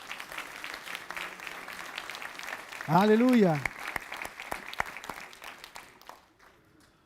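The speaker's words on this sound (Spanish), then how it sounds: "¿Cuántos aplauden al Señor por eso?" A church congregation applauds during a worship service, steady hand-clapping running throughout, while a loud voice calls out an exclamation in the middle and talk continues over the clapping.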